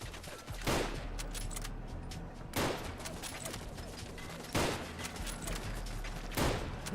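Turret gunfire in the video game Fallout London: a continuous rattle of shots under a dense game soundtrack, broken every two seconds or so by louder sharp bursts, four in all.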